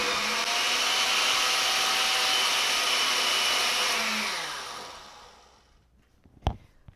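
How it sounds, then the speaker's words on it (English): A blender purees fermented hot sauce with chili peppers and ground cinnamon, a steady loud whirring drone that winds down after about five seconds, followed by a faint clunk. "we're just going to let that puree a little bit further so that everything is mixed in"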